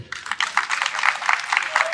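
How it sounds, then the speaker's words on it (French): A crowd applauds at the inauguration of an integrated health centre in Allanikro, giving a dense, steady burst of clapping from many hands that carries through the whole moment. "vous pouvez vous applaudir"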